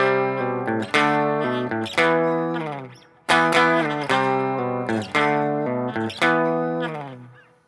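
An electric guitar with distortion plays a part from a song as a series of loud, strummed chords, each ringing out and decaying before the next hit, with no talking.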